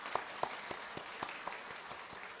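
A church congregation applauds the choir at a Sunday afternoon service. The clapping is quiet and somewhat distant, with a few louder individual claps standing out against a broad, steady wash of applause.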